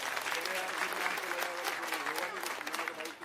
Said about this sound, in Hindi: मैं चाहूंगा हमारे कार्यकर्ताओं के लिए एक बार जोरदार ताली आप लोग